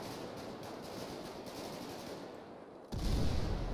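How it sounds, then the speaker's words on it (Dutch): Grenade explosions in the GTA 5 video game come through as a dense, continuous roar of crackling blasts and gunfire. The roar swells suddenly into a heavier, louder boom near the end, with no talking. "Nog steeds explosies. Dat was de granaat die ik zo gooide."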